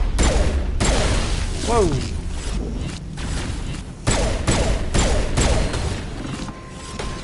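Pistol gunfire in the video game Mass Effect, with sharp repeated shots and heavy thuds running through the clip under a lively game soundtrack, while someone talks and exclaims over it.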